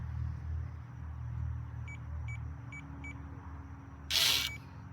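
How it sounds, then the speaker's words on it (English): A HIDALIFE keyless entry front-door lock keypad gives four short, quiet beeps in a row over a low background rumble, followed by a brief louder clunk. "So if you listen, the beeps are really low."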